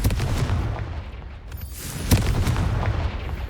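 Spell blast from Confringo in the game Hogwarts Legacy: dense booming bursts with a sharp loud crack about two seconds in, under a continuous rumbling game din.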